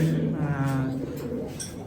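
Pigeons coo in a loft, a soft, low warbling call that rolls on close by for a moment over faint background noise.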